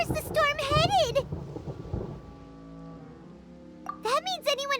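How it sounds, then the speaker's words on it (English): Thunder rumbles low and heavy in Genshin Impact as a storm approaches. A rolling boom swells between stretches of excited voices. "Paimon hears thunder!"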